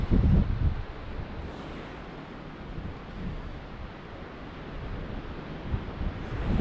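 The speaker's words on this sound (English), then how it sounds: "It's a bit blowy up here as well." Wind buffets a granite clifftop in West Cornwall with a steady, loud rumbling roar. It swells slightly in gusts and sounds close against the microphone, with no voices.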